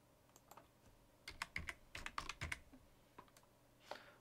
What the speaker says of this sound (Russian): Далее вводим пароль суперпользователя.